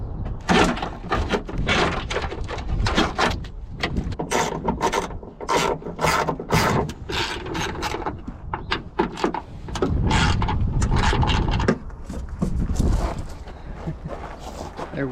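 Scraping, rasping and clunking as a wiring harness and bolts come out of a Nissan 240SX trunk lid at a junkyard, close and busy with bursts of metallic ratcheting and rubbing, no talking.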